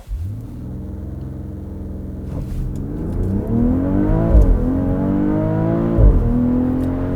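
A 2022 BMW X3 M40i accelerates hard under launch control, the engine note climbing in rising harmonic sweeps through several gear changes, a loud, steady whirring roar heard from inside the cabin with no talking.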